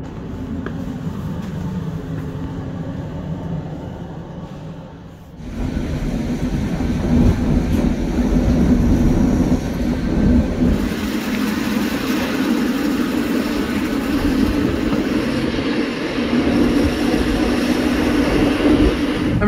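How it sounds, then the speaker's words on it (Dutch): Interior of an NMBS AM75 electric train set bound for Antwerp, with a steady loud rumble of running gear and a brief dip around five seconds before the rolling noise resumes, continuous and close. "Dit is een treinstel van type AM75."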